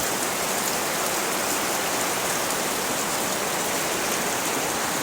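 Heavy rain pours down steadily in the late rainy season, a dense, loud, unbroken hiss with no voices.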